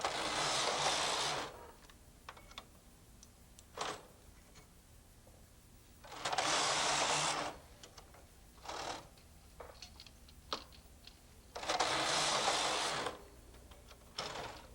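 Punch-card knitting machine with weaving yarn, its carriage swept across to knit a row: three loud whirring passes about five seconds apart, with small clicks and clacks of the mechanism between them.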